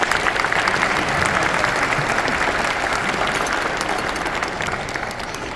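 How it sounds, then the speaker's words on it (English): An outdoor audience at the first annual Vaisakhi festival on Parliament Hill in Canada breaks into dense, sustained applause that stays loud throughout and eases slightly near the end, with faint crowd murmur underneath. "I think that deserves a big applause."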